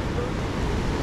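Rough, agitated sea surging against shore protection near a bridge, a dense, continuous roar of breaking water and wind noise filling the short moment, loud and close.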